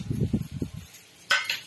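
A metal spoon clinks once, sharp and bright, against a pan while turmeric goes into frying onions for methi bhaji, after a stretch of low woman's speech.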